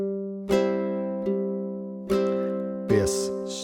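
Ukulele strung with a low G, played in a bass-then-strum pattern: four ringing attacks alternating single low notes and fuller chord strums, close and clear with sustained decay between them.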